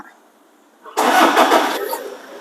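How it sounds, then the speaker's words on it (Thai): A 2013 Toyota Fortuner 3.0 TRD Sportivo with an automatic gearbox cranks and fires up about a second in. The start is loud, abrupt and close, then settles into a rough, fading idle. "ขออนุญาตสตาร์ทรถให้ชมกันนิดนึงนะคะ"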